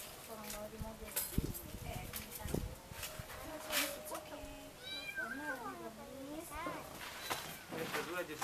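A cat rescued near a volcano in Indonesia meows several times with rising and falling cries, close by, while people talk over scattered background clatter.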